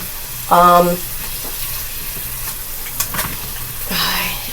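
Food browning in a frying pan for an April Fools dinner gives a steady low sizzle and hiss throughout, with a brief clatter of utensils near the start and light stirring sounds later.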